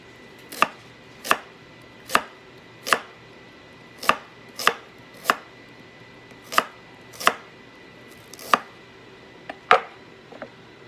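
A knife chops vegetables on a board while pickled papaya is prepared. About a dozen crisp, sharp cuts come at a steady, unhurried pace, close and clear, with quiet between them and no talk.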